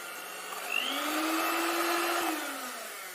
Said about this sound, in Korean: 밀가루가 날릴 수 있으니 저속으로 살짝만 휘핑해 줍니다